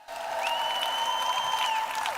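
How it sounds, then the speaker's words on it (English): An audience claps for farmers at a live event, a steady wash of applause with a sharp rising whistle cutting through near the start and holding above the clapping. "Let's get a big round of applause for our farmers here today,"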